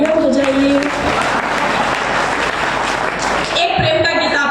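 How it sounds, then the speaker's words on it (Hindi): Audience clapping after a song at a poetry recital, continuous applause with a voice briefly audible over it at the start and end. "तालियां बजाइए।"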